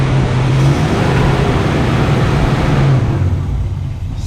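A car engine fitted with an Edelbrock AVS2 carburetor roars steadily at high revs, loud and close, then eases off slightly near the end.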